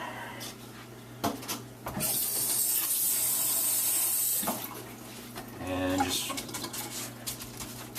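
Tap water runs in a steady hiss for a couple of seconds while a tombstone prop is finished with a tea stain, then clatter and movement follow.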